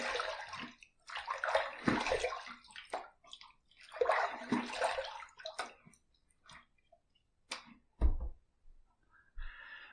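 Water runs and splashes close by as a face is rinsed after shaving, in several uneven bursts of pouring and sloshing separated by short quiet gaps and a few drips.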